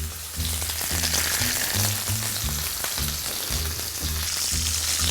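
Veal turnovers frying in hot butter for a parmigiana-style dish, giving a steady, close, dense sizzle with crackle throughout and a low hum underneath, no voices.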